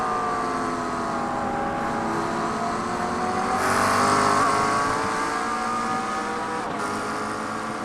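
Race cars in iRacing at Sebring during an IMSA endurance green flag start, a loud, dense roar of engines revving and climbing together, swelling briefly mid-way as cars accelerate close by, with no talk.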